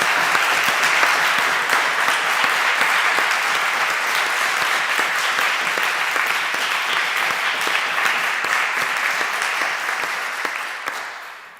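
Sustained, fairly loud applause from an audience after a scholars' debate, dense clapping that carries on evenly for over ten seconds and then begins to fade.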